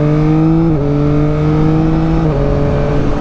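A 2021 Yamaha MT-09 SP motorcycle engine drones loudly up close, its pitch stepping down twice as the auto blipper downshifts under engine braking, with no voices.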